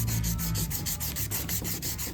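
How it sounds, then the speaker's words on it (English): Sandpaper rubs back and forth over stainless steel car trim to work out a surface spot, a quiet rhythmic scraping of repeated strokes heard up close with no talk. "I'm just going to keep on sanding and sanding until that spot comes out"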